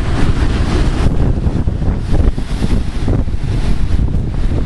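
A strong easterly wind blows at a Maine shore, loud gusts buffeting the microphone steadily over the roar of crashing surf.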